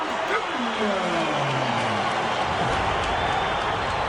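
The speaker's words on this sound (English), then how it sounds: "This is what the crowd's been waiting for here, and there's quite a buzz going on." Boxing crowd at a championship fight for Roy Jones Jr. keeps up a loud, steady roar of cheering and applause throughout, with a voice speaking over it near the start.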